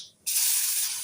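Mustard seeds, cumin and turmeric hit hot oil in a pan for a red amaranth stir-fry, a sudden loud burst of hissing sizzle after a brief quiet moment, sustained and close.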